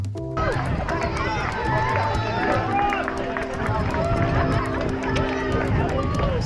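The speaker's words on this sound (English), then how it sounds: "we've got some nice big crowds there at the start area" Large spectator crowd gathered at the start area of the Standalone 10k road race at Standalone Farm, a steady babble of many voices with cheers and shouts, close and continuous throughout.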